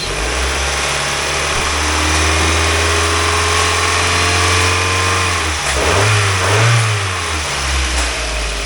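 A 2005 Mazdaspeed Miata NB2 engine runs steadily close by, then is revved a couple of times with rising and falling pitch before settling back toward idle, loud and with no talking.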